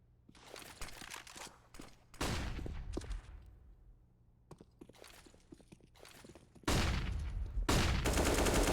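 Gunfire in Counter-Strike on the Mirage map during a competitive match, with sharp rapid shots and footsteps, then loud sustained bursts of automatic fire near the end.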